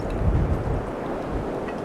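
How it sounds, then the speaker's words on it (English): Wind gusting across an exposed slate quarry, a low, steady rumbling buffet against the microphone with a slight surge early on, no voices. "But at least we're getting down out of the wind a little bit now."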